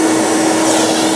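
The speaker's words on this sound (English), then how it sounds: "Vacuum unit will suck the screws out of the bowl." A vacuum unit roars at a steady, loud level as it sucks screws out of a screw feeder bowl, with no breaks or talk.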